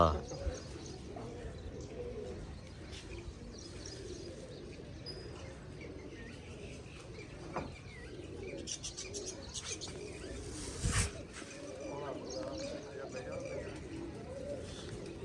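Pigeons coo softly and repeatedly around a returning homing pigeon at a rooftop loft, the low calls steady but faint under a murmur of voices and background noise.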